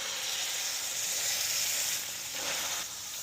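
Ground meat with jalapeno and onion browning in a hot pan, a steady broad sizzle and hiss that swells slightly and fades, heard alone without talk.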